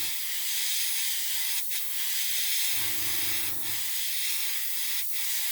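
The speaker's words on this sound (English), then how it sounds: "As you can see, how I always airbrush, building up slowly, not trying to colour it all in at once" Steady airbrush hiss close by as paint is sprayed onto the rotor blades of an Airfix 1/48 Sea King model helicopter, continuous and even, with a brief low hum or buzz partway through.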